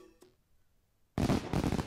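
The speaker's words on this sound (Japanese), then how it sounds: "ヒュー、ドン、パラパラパラ、花火だね" Fireworks go off at a summer festival in the game Egypt Koi: after a quiet lull with a faint early pop, a loud booming burst breaks out and keeps crackling densely to the end.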